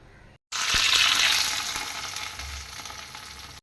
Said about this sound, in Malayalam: മീൻ കറിയിലേക്ക് വേണ്ട കടുക് ഒന്ന് വറുത്തിടാൻ വേണ്ടി എണ്ണ ഒഴിച്ചു. ചട്ടി ചൂടായിട്ടുണ്ട്. പിന്നെ കടുക് ഇട്ട് കൊടുക്കാം.